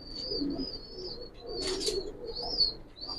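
Old-breed green gola pigeon calling nearby: soft, low coos repeat at a gentle pace, mixed with thin high chirps and a brief flutter of wings.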